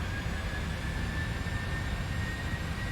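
A Boeing 747-400 jet roars steadily on departure in a flight simulator game, a broad continuous engine rumble with a thin high whine, constant and without talking.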